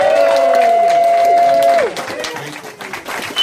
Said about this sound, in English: Can we have a round of applause for our friend Cruz?